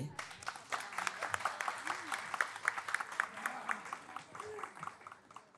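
A studio audience at a Nepali entertainment show gives a round of clapping for a birthday, with quick, fairly faint claps that mix with voices and thin out toward the end.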